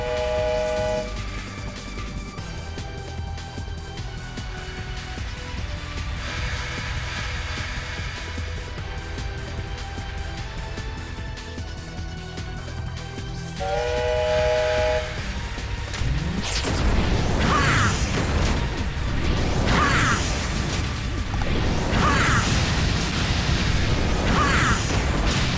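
A minecart stage in the PS2 game Musashi: Samurai Legend, with rolling rail rumble, booms and crashes building over looping game music. No talk.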